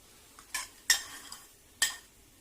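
Marinade is stirred into shrimp with a few quick, light scrapes and clinks of a spoon against the bowl, close and quiet, with no one speaking.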